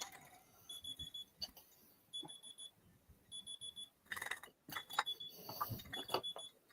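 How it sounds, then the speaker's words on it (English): An alarm clock beeps in repeated short bursts of high tones in the background, irregular and fairly faint, mixed with workshop clatter. "Talking to the alarm, not you guys. You can hear it beeping in the background."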